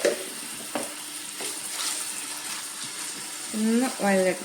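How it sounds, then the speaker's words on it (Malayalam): Chopped ingredients sautéed in a pan give a soft sizzle with a few scraping stirs, and a voice speaks briefly over it near the end. "ഒന്ന് വഴറ്റിയെടുക്കാം"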